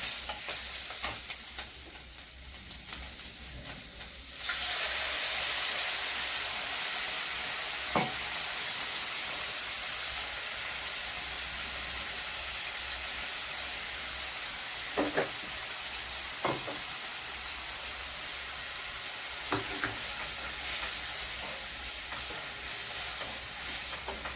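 Chilli, turmeric, tomato sauce, chilli sauce and spice mix frying in a pan for chilli paneer, a steady loud sizzle with occasional stirring scrapes, no voices.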